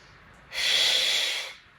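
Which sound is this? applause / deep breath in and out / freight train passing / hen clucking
deep breath in and out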